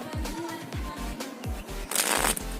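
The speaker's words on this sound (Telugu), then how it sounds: "ఇప్పుడు డెక్ మొత్తం మనం షఫుల్ చేసేద్దాం." A deck of playing cards is riffle-shuffled during a card trick, a series of quick rhythmic flutters and soft snaps repeating several times, close and clear, ending in a denser burst.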